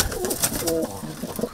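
Domestic pigeons kept in a family dovecote coo repeatedly in soft, rolling phrases at close range, with a light fluttery background and no talking.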